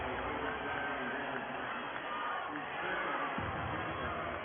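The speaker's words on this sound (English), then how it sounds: "You hear the ahs and the oohs from the crowd watching the replay" A large crowd at a high school 3A basketball championship in an arena murmurs and swells with a steady roar of oohs and ahs, a distant, continuous din.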